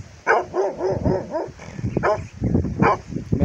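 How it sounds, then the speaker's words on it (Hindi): Several large, fierce dogs tied up on chains at an outdoor gathering bark and yip repeatedly in loud, close bursts, with brief whimpering between barks. "ये देखें बड़े ख़तरनाक कुत्ते हैं ये।"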